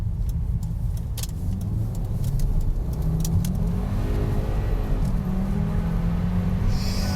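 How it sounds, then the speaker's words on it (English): A 2006 Volvo S60 T5 engine revs hard as it accelerates, with a rising engine note and tire noise from the wheels spinning, loud and continuous. "got some crazy wheel spin there. The traction control was not having it."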